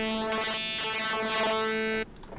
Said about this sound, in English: Frequency mod stuff sounds a little like this.